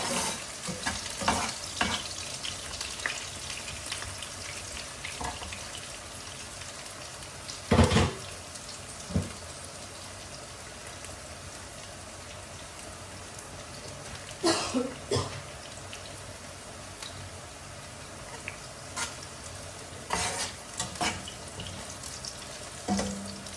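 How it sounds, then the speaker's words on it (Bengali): Onion and garlic fry in a pan with a steady sizzle, broken by scattered clanks and scrapes of stirring and an occasional cough nearby. "আমার পেঁয়াজ রসুন ভাজা শেষ"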